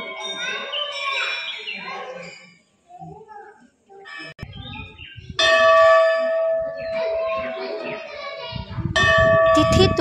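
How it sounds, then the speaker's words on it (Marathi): Temple bells ring at the ancient laterite-stone Ganeshgule temple near Ratnagiri on the Konkan coast, clear metallic clangs sounding in two bursts, with children's voices and chatter heard beforehand and around them. "मंजूळ घंटानाद आपल्याला प्रसन्न करून जातो"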